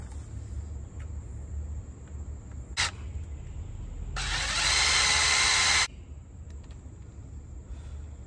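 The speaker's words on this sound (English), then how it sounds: "Alright, drill the hole." A power drill bores a hole in a Humvee, running in one loud, sustained burst of whine lasting under two seconds after a brief earlier blip, with quiet workshop ambience and a faint steady tone before and after.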